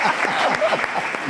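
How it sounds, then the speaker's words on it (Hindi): Studio audience of a Showtime With Ramiz Raja talk show clapping, a short burst of dense applause at fairly strong volume lasting just over a second. "इनकी बेटी के लिए पहले तालियां"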